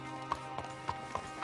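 Horse hooves in a PS4 video game clip-clop in a steady, evenly spaced rhythm of four distinct beats over a low continuous background hum, with no talking.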